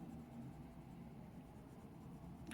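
Budget colored pencil from Amazon being layered and blended over other colours on paper, a steady close scratchy scribbling texture with no pauses and no talking.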